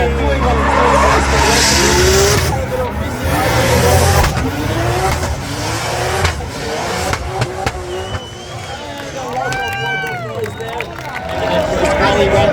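Drift car at a Drift Masters qualifying round in Riga, with engine roaring and tires skidding loudly on a fast initiation. The screech and revving swell and fade as the car passes, under a commentator's voice and crowd noise.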